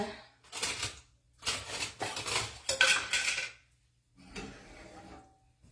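Small ceramic soup bowls clink and clatter as they are handled and set down, several close bursts of rattling separated by short pauses, with no talking.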